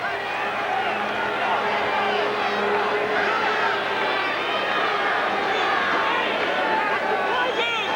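Football stadium crowd at Lansdowne in Ottawa during a 1987 CFL game between Calgary and the Ottawa Rough Riders, a dense steady roar of murmuring and scattered shouts filling the whole stretch, with faint voices mixed in.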